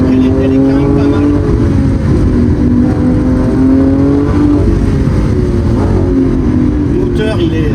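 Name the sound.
Lamborghini Aventador SVJ engine accelerating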